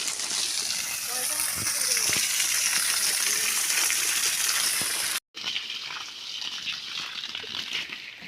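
Water gushes from a hose pipe onto garden plants in a steady splashing stream, fairly close, while people talk over it. There is a brief cut partway through.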